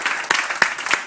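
Audience applause at a Cumbre de la Iberosfera event, a brief burst of dense, close clapping from a crowd with a few sharper individual claps standing out.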